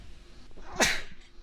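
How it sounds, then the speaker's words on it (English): A single loud, close sneeze bursts out sharply after a brief quiet moment. "I gotta sneeze, bro."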